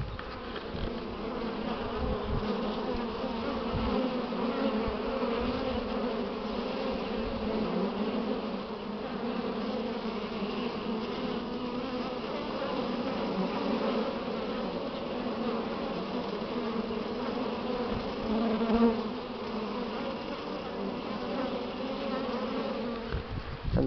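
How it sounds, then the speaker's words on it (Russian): A dense, steady buzz of many honeybees hums continuously at close range, with no voices. "Наша местная пчела"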